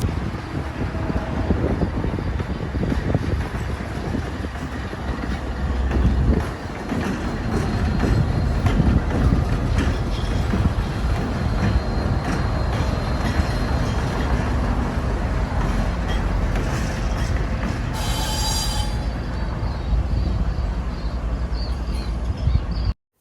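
A locomotive power set rolls through Northtown Yard, a continuous heavy rumble of diesel engines and wheels with rail clatter, loud and steady throughout, with a brief higher squeal near the end.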